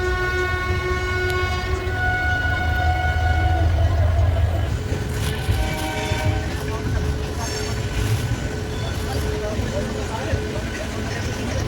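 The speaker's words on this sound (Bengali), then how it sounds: "হাওড়া থেকে ট্রেন ছেড়ে দিয়েছে" Passenger train pulling out of Howrah station, a steady low rumble of wheels and carriages heard from inside a car, with a long tonal horn in the first seconds and voices talking faintly in the compartment.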